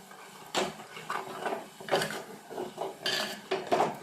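A spoon stirs sardine curry with roasted-coconut gravy in a pot, making repeated scraping and clinking strokes at a steady, uneven rhythm, fairly close and moderately quiet, with no talking.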